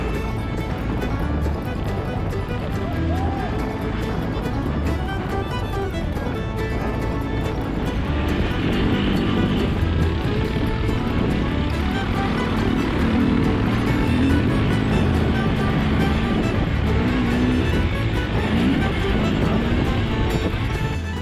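Yamaha 660 XTZ off-road motorcycles ride fast along a trail, their engines a continuous, busy roar with wind and rough-ground rumble throughout, no pauses.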